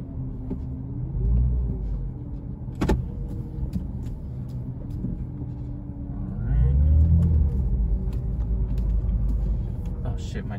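A 2006 Dodge Charger RT drives along with a steady low engine rumble and road noise, swelling briefly midway, while a person talks over it.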